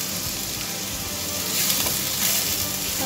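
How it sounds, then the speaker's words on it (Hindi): Spices sizzle steadily in a hot pan for a yogurt potato curry, a close, continuous crackling fry with a faint stir partway through. "ये हमने मसाले डाल के इसको अच्छे से भून लेंगे।"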